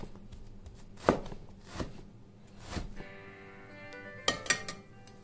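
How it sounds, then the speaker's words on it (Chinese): A kitchen knife slices and shreds beef into thin strips on a cutting board, giving five or six separate sharp chops spaced irregularly, close and fairly crisp against a quiet room. "牛肉也是切片切丝。"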